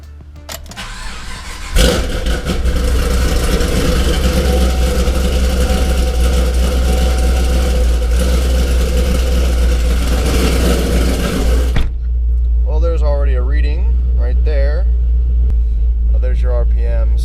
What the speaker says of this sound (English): let's start the car up and see what happens here.